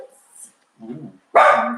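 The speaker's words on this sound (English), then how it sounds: "That was one of our dogs." A dog barks loudly and close by in a single burst near the end, after a few fainter, muffled sounds earlier, heard indoors during a relaxed home chat.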